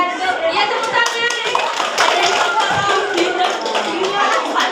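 Applause from a group of people, a dense, continuous patter of hand clapping that stays loud and close throughout, with voices mixed in.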